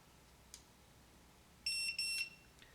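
An electronic keypad deadbolt gives two short high beeps while its set button is held, faint and close in a quiet room, with a soft click shortly before.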